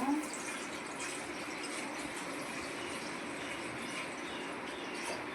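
Milk pours into a pan for roasted gram halwa as a steady, soft liquid gush that runs without a break throughout.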